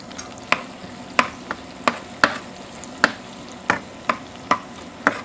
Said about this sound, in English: we're going to start to saute our shallots.